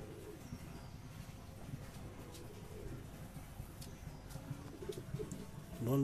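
Low, rolling coos from pigeons in a loft of high-flying breeding birds with young chicks, repeating steadily at moderate volume, ending with a louder close bump.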